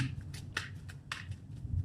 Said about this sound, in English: I'm just going to cut the pack into 3 piles